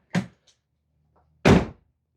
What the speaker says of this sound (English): Got that door adjusted nicely. Opens and closes as it should.